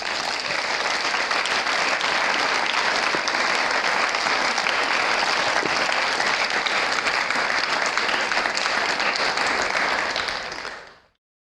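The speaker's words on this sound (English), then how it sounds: "Let's give one more round of applause to our guests." Sustained, dense applause from a forum audience for the guest speakers, loud and even throughout with no voices over it, ending in an abrupt fade to silence.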